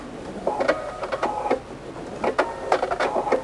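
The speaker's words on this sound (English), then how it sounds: "as you're sewing the bias binding to the velvet" A sewing machine stitches bias binding onto velvet for a quilted Christmas tree skirt, running in short uneven bursts with brief pauses, close and moderately loud with no talking.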